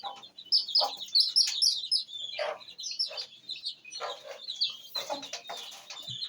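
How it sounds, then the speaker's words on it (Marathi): A brood of Aseel and country hen chicks peeps and chirps in a steady overlapping chorus of high, close calls with no one talking. "तुम्हाला मी याच्यातलं असीलचं पिल्लू दाखवतो"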